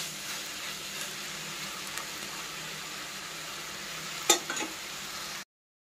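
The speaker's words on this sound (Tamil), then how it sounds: "இதோட நல்ல சுருளாக வதங்கி வரணும், அது வரைக்கும் வதக்கிக்கிட்டே இருக்கணும்." Ridge gourd chutney ingredients sauté in a pan with a steady, close sizzle and occasional stirring scrapes, a brief louder clatter near the end before it cuts to silence.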